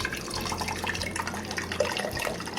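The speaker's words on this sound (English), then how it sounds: "I'm going to go ahead and strain the roses out of the water." Water with steeped rose petals is strained out while making rosewater, giving a steady close splashing and trickling pour that runs unbroken with no talking.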